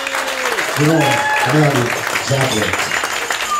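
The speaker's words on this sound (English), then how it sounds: "Ladies and gentlemen, round of applause," Wedding reception guests applaud in a sustained wash of clapping while a voice talks over it near the microphone.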